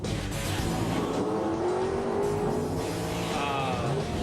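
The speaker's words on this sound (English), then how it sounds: "It's a little RX-7 with a small block in it." Mazda RX-7 drag car fitted with a small-block V8 engine roars down the drag strip, a loud sustained engine note with rising pitch and tire noise, heard alone without voices.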